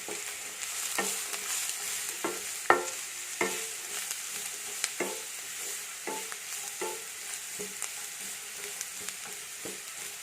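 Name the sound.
stirring onions sautéing in oil for chicken curry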